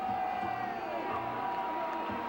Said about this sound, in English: Let's listen to the crowd.